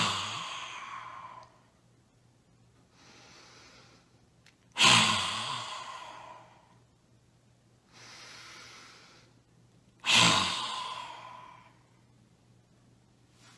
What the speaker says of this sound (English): taking a deep breath in through your nose and then breathing out through your mouth with your tongue sticking out and make a sound